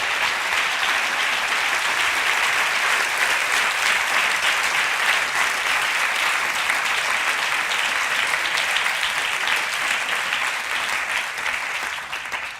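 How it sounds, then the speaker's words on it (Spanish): A church congregation claps to honour the Lord during a Spanish-language evening service. The applause is dense and steady, sustained for about twelve seconds and tapering slightly at the end. "Da un aplauso al Señor esta noche."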